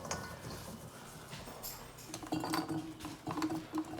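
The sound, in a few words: green beans poured into hot glass jars through a funnel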